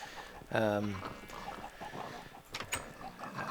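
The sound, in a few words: chickens clucking in a video game farm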